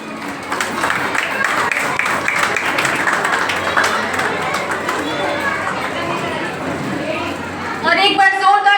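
Applause for class 10 students at a Mother's Day school award ceremony honouring top scorers and parents, a steady crowd clapping throughout with chatter and children's voices mixed in, rising briefly near the end.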